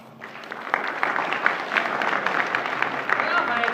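A live audience bursts into steady applause welcoming a guest at a staged script reading, the dense clapping rising quickly and holding at an even level for several seconds with some voices mixed in.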